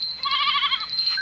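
Goats bleat in a herd in the mountains, with one close, wavering, nasal bleat lasting about a second.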